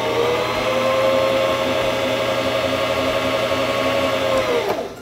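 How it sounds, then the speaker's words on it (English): A Singer Fashion Mate 5560 sewing machine winding a bobbin, a steady close whirring motor tone that holds evenly for several seconds, then winds down and stops near the end. "your foot controller to begin winding the bobbin"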